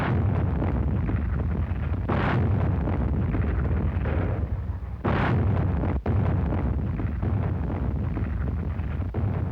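Heavy naval guns aboard Allied warships pounding German coastal defenses, a sustained rumbling barrage with deep booming blasts and sharp bursts, loud and continuous with wind-like roar between shots.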